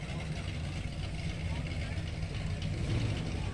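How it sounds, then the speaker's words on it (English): At an outdoor car cruise, a Chevrolet SS idles with a steady, low engine purr, close and continuous under a broad wash of crowd and traffic noise. "That's a nice SS. Listen to it purr."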